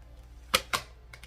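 Tarot cards shuffled by hand, two quick riffling bursts close together followed by a couple of fainter card flicks, with no talking.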